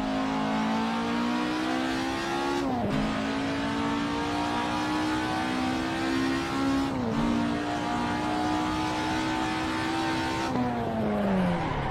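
Race car engine droning loudly and steadily with pitch shifting through gear changes while the car slides, three abrupt shift breaks interrupting the continuous harmonic roar.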